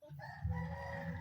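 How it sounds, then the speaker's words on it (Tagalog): A small pet rooster crows nearby in a short, clear call, close and fairly loud against a quiet outdoor background. "Tignan nyo yung manok ko."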